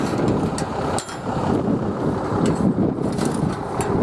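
Strong wind blows outdoors at a ranch arena, a rough, continuous rumble of gusts buffeting the microphone, with a few brief knocks.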